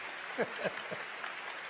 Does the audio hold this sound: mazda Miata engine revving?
no